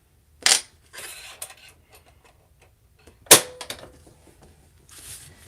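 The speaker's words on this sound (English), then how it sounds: "let me change my foot to my zipper foot" A sewing machine presser foot is swapped for a zipper foot, giving two sharp metallic clicks and snaps about three seconds apart, with softer rattling and handling noises between them and no talking.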